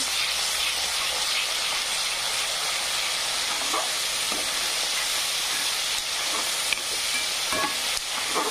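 A paste of ginger, coriander and garlic fries with onion in a pan for usal gravy, a dense, steady, close sizzle with a few faint stirring scrapes.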